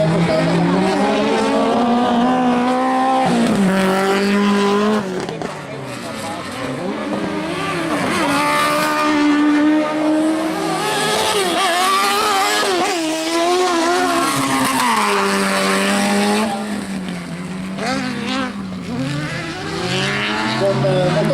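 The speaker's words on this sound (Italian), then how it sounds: "Con motore motociclistico sentite naturalmente la differenza di sound che emettono questi piccoli propulsori" Stock car cross racing at a northern Italian trophy event, cars powered by small motorcycle engines revving high and shifting as they pass, a continuous loud buzzing pack with rising and falling pitch, under constant commentary.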